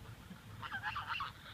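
Geese honk in a short burst of overlapping calls, faint and somewhat distant, with soft background noise.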